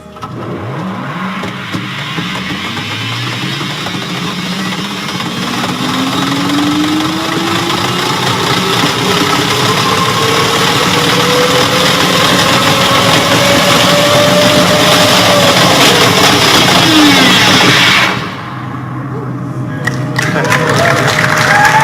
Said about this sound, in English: So that was a video of a test pod ride that we did in the Hyperloop